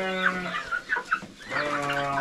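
Australorp chickens clucking close by, a run of short, overlapping clucks and squawks from several birds, fairly loud with no talking.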